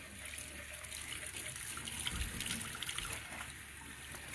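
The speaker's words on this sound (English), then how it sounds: "Now I'm going to run water through my gun." Warm water runs through a Wagner home decor paint sprayer gun, a steady, continuous hissing trickle at close range, even and unbroken throughout.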